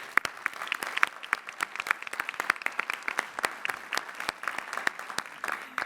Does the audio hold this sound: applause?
yes